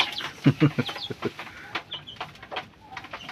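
Several chickens cluck in quick, choppy bursts close by, with short squawks and scattered calls trailing off.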